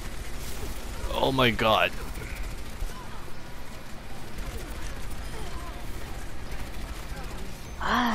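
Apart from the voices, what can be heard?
enemy gunfire in the video game Overwatch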